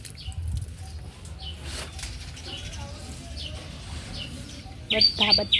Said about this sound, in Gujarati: સરસ મજાની ચકલી બોલે છે ચી ચી ચી ચી